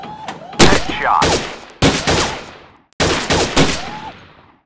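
Sharp gunfire bursts from the VR shooting game Gun Club VR come in three loud clusters, each one ringing out and then fading away.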